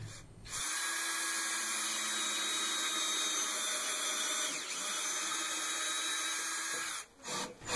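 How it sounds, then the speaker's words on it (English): A power drill runs continuously for about six seconds with a steady high whine while drilling vertically into wood on a loft bed frame, starting and stopping abruptly. "and then you can drill vertically"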